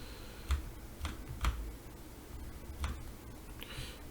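Computer keyboard keys pressed a few times in a quiet room while working in ZBrush 3D sculpting software, producing sparse, soft clicks spaced irregularly over a low background hum.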